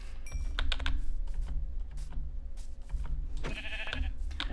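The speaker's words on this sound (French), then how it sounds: "ici, il y a des moutons, c'est bon" Sheep bleat in Minecraft, a couple of short bleats rising over steady computer keyboard typing and clicking throughout, with no voices.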